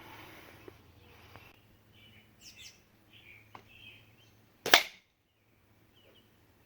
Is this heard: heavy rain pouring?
no